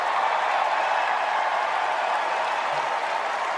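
Dense, steady applause from a large crowd at a political rally, sustained evenly throughout with no pauses or speech.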